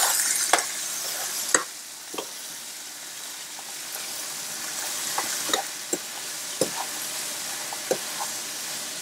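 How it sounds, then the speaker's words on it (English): Jamaican oxtail browns in a pot with a steady close sizzle while a utensil stirs it, scraping and knocking at irregular intervals over the hiss. "I'll just stir it up to make sure it's brown evenly"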